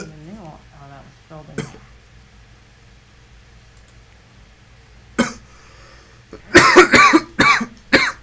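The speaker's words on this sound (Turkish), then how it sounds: "Midemde ufak bir hareketlenme yapınca öksürtüyor." A person coughs in a burst of several loud, harsh coughs near the end, after some faint breathy sounds and a quiet stretch.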